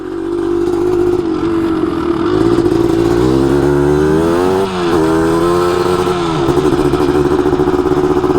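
A 250R motorcycle engine revs loudly and steadily, climbing in pitch through the gears with brief dips at each shift, close and continuous with no talking.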